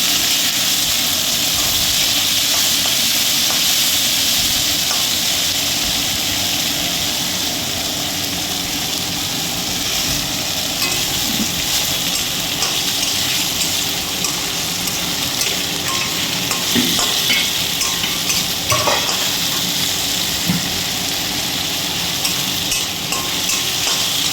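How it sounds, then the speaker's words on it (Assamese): Sliced onions fry in oil for biryani, making a loud, continuous, close hiss of sizzling that stays even throughout, with occasional faint clicks of stirring. "এই পিঁয়াজখিনি মই ধুনীয়াকৈ অলপ ফ্ৰাই কৰিব দিলোঁ"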